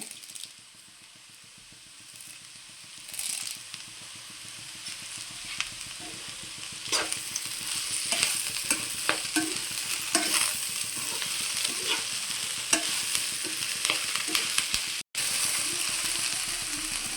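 Okra slices with onion and curry leaves fry in a pan over medium flame, a continuous sizzle with repeated scraping stirs and clinks that grows louder and busier over time; no speech.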